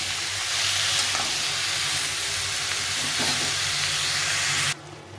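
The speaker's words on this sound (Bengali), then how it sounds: "কুমড়োটা এখন আমি ভালো করে কষিয়ে নেব।" Pumpkin sautés with spices in a pan, a dense continuous sizzle with occasional stirring clatter, loud and close, cutting off abruptly near the end.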